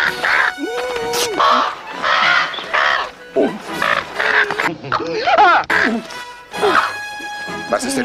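Goose-like bird squawking and honking loudly in repeated bursts, mixed with agitated voices talking over it in a comedic scene.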